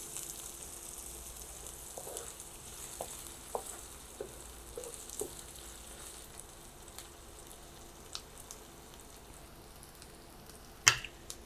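Two large local onions fry in a pan, giving a faint, steady low sizzle with sparse soft pops and one sharper clink near the end; no one speaks.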